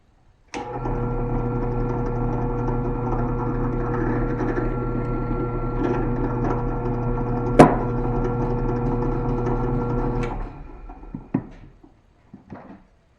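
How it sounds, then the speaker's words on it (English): A power drill whines steadily for about ten seconds at close range, drilling a 3/16-inch test hole in a computer desk for a shelf, with a sharp click partway through, then winds down into a few light knocks. "I'm going to drill a test hole and see what happens."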